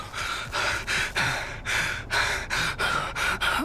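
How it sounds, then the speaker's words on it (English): Heavy, rhythmic breathing in The Texas Chainsaw Massacre video game, a steady series of about nine loud, close gasping breaths in quick succession with no talk over them. "I hear heavy breathing"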